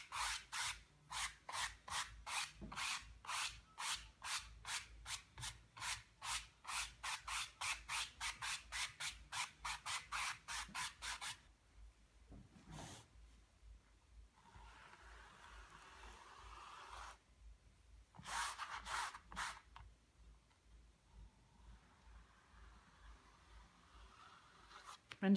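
Brisk back-and-forth scrubbing of a brush wiping acrylic paint across canvas, a rapid rhythmic rasp for about eleven seconds, then quieter, slower strokes with pauses and soft rubbing.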